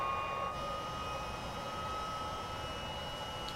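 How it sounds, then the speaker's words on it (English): An aircraft's right engine spools up after fuel and ignition are switched on, a steady loud whine and rushing roar with high sustained tones, continuous throughout. "We turn the fuel valve on and the ignition, and that starts getting temperature going in the right engine."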